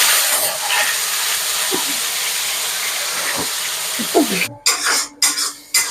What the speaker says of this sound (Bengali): দিয়ে দিচ্ছি 3-4টে মতন পেঁয়াজ